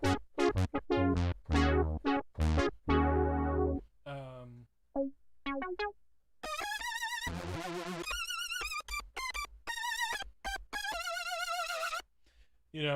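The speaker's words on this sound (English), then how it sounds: "this is a chorus that comes with the Juno 2." A Roland Juno-2 synthesizer patch run through its built-in chorus plays a string of short, snappy stabs, then longer wavering sustained chords, close and loud with brief gaps between phrases.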